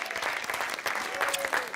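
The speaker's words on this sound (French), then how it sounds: "applaudissez Elisabeth et Michel qui vont nous quitter" Studio audience on a French television game show applauds two departing contestants: dense, steady clapping fills the whole stretch, loud and close, with no pause.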